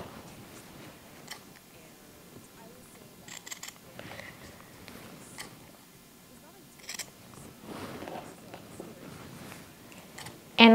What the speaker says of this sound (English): So I have my scissors and I'm just going to cut those on a